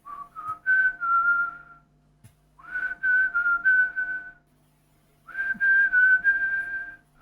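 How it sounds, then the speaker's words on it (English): Someone whistles a well-known tune in three clear phrases, each a couple of seconds long with brief silent gaps between them, sounding fairly close against a quiet background hum. "you hear somebody start to whistle"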